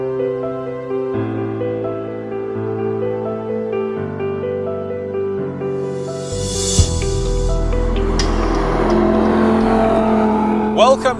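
A Lamborghini Huracan LP610-4 Spyder engine comes in after a stretch of sustained musical tones, rising into a loud, deep roar with revving and a sharp crackle toward the end.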